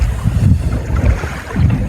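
A catamaran motors along with its sails down and the engine running, heard as a low rumbling drone with buffeting wind noise on the microphone and rushing water, close and loud.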